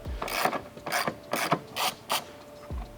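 A hand ratchet spins out a 10 mm bolt on a Porsche 992, five or six close, crisp clicking strokes in an even rhythm.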